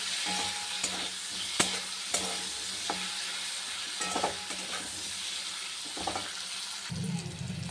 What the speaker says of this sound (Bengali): দেখো ভাজা হয়ে গেছে সবজিটা কাঁচকলা আলুটা